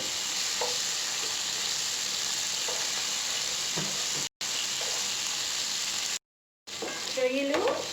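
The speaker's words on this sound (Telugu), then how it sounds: "ఇప్పుడు ఫ్రై చేసుకోవాలి, మీడియం ఫ్లేమ్ పెట్టుకోవాలండి. ఇలా తిరగేసుకుంటూ ఫ్రై చేసుకోవాలి." Prawns sizzle steadily in a pan of hot oil over a medium flame while a spoon scrapes and turns them at intervals, the continuous frying hiss cutting out briefly twice.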